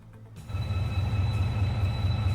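A train in the game Transport Fever 2 pulls out of the depot, a low rumbling engine and wheel drone rising in and holding steady with a faint high whine, near and continuous.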